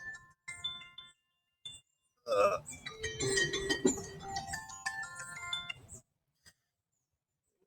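A phone alarm ringtone plays a bright, chiming melody for about four seconds at moderate volume, preceded and followed by a few short spoken words and a brief murmur.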